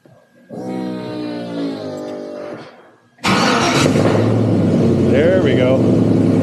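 Close-up running of a 1955 Chevy Napco truck's engine, a rough, throbbing idle that drops off briefly, then returns as a much louder, fuller roar that holds steady, with faint voices nearby.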